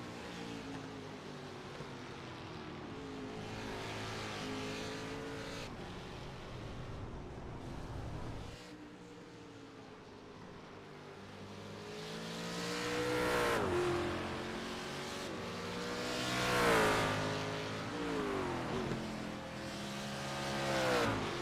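In a racing video game, a Ford GT race car engine at Lime Rock Park climbs and drops in pitch through repeated gear changes, a loud, sustained whine that swells near the end.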